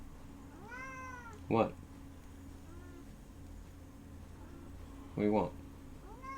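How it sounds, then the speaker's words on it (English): A cat gives two loud, close meows a few seconds apart, with a person talking to it quietly in between. "Cat? Yeah, cat."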